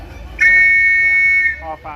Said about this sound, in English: And coming up, here we go with the whistle, Sarah.